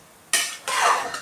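A spoon scrapes twice through a pot of chicken biryani masala as turmeric powder is stirred in, making two short, loud, rasping strokes close by with a faint sizzle underneath.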